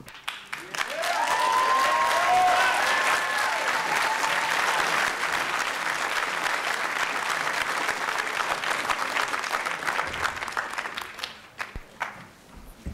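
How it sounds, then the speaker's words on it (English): Hotel workers and supporters at a city council meeting burst into loud, sustained applause from a crowd that lasts about ten seconds before tapering off. "If you could just hold your applause until after we take a vote on Councilor Mahern's amendment"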